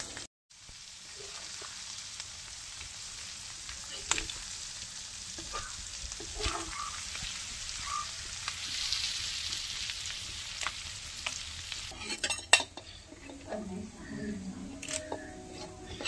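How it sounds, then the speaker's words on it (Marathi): Prawns and muri fish frying in oil over a traditional tribal cooking fire, a steady soft sizzle running throughout with scattered pops and a few utensil clinks near the end. "आणि इथे आपले मुरी मासे मस्त की फ्राय होत आहे"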